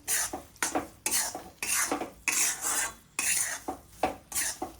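Jaggery syrup for winter gundarpak stirred in a pot, a ladle rasping and scraping the bottom in rhythmic strokes, about ten close, bright sweeps with brief pauses between.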